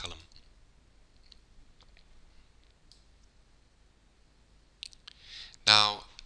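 A computer mouse clicks on a link a few times, faint and sparse against near-silence, and a brief burst of voice follows at the end.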